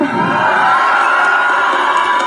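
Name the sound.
crowd shouting and cheering at a political rally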